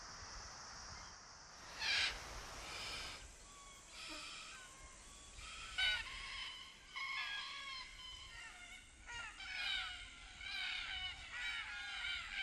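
Red-tailed Black-Cockatoos give a series of harsh, rolling, grating calls, some overlapping, at moderate distance against a quiet outdoor background with no talking.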